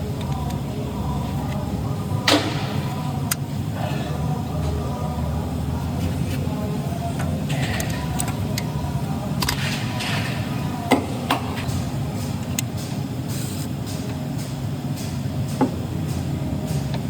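Taps of a hammer on broken exhaust studs of a Ford Transit V6, a few sharp metallic knocks spread over a steady workshop background hum.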